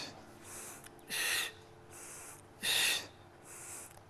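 Forceful breaths drawn in and pushed out during an exercise routine, five audible breaths alternating softer and stronger sharp exhales in an even rhythm, close to the microphone with no talking.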